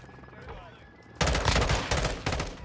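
M16 burst fire in the video game Modern Warfare 2, a sudden loud run of rapid rifle shots breaking in after a quieter stretch, with a few further bursts close together.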